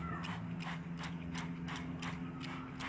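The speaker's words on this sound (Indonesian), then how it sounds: "ini kita semprot dulu seperti ini sampai kira-kira basah, lembab" A hand sprayer mists EM4 solution over seedlings, a quick regular series of about eight short spritzes over a faint steady hum.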